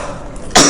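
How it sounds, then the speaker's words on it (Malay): A single sharp cough bursts out abruptly at the end, following a stretch of quiet room tone. "Seminggu dah duduk batuk."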